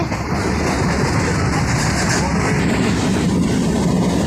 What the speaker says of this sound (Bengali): হুলিয়ার দিকে আমাদের ট্রেনটি এগিয়ে চলেছে